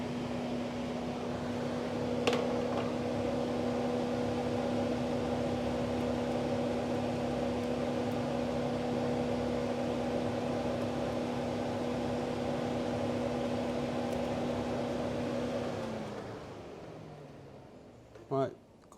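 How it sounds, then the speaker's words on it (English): A Mini Cooper R56 engine cooling fan whirs with a steady, close hum, then spins down and stops near the end. "Oh, the fan came on."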